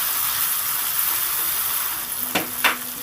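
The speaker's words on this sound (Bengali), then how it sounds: "দেখুন লবণটা দিয়ে একটু নেড়ে চেড়ে দিলাম" Chopped tomato and onion with salt fry in a pan for a bitter gourd curry, a steady close sizzle broken by two sharp scraping stirs near the end.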